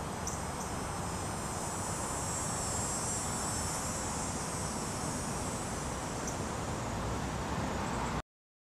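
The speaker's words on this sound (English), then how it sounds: "the buzzing things are cicadas, by the way." Cicadas drone in a steady, dense buzz that fills the whole stretch on a summer day, loud and unbroken until it cuts off abruptly.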